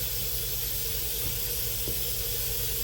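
A pressure cooker on quick release vents steam with a steady, loud, broadband hiss that runs unbroken throughout, heard close with a faint low hum beneath.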